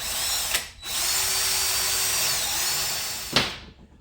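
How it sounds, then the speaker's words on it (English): A power drill bores a hole in a part during a carburetor conversion on a 1983 Ford Ranger. It gives a steady, loud high whine that briefly dips near the start, then cuts off and spins down at the end. "Let's drill our other hole here"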